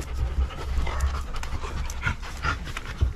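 A dog pants rapidly and close by, quick rhythmic breaths running steadily throughout, in a home shared with many dogs including a German Shepherd mix and a Labrador.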